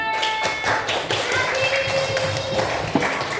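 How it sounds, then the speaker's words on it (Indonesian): A handful of sharp, quick hand claps in a grade five classroom lesson, uneven in timing and fairly close, over a faint background of voices. "Tepuk tangan."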